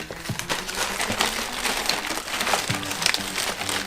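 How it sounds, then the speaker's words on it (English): Plastic carrier bag crinkles and rustles continuously, crackling as it is handled and scrunched close up around a paint tray, with no talking. "pop my paint tray into a plastic bag"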